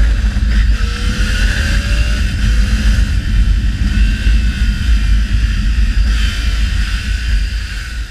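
Triumph Tiger 800 motorcycle accelerating up through the gears, with a loud, steady engine roar close by and heavy wind rush over it, the pitch rising and dropping at each shift.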